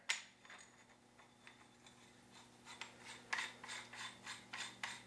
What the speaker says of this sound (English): We're gonna go ahead and thread our suppressor.